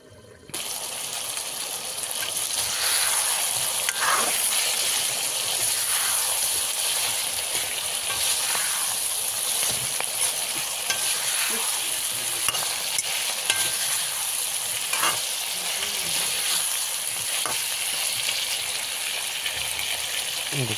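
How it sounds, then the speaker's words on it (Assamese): Potatoes and kohlrabi cook in a covered pan, giving a steady close sizzle and bubbling with occasional soft scrapes and clinks throughout, with no talking. "ঢাকোনখনেৰে ঢাকি দিম আকৌ ধুনীয়াকৈ ওলকবিটো আৰু আলুটো ধুনীয়াকৈ সিজে"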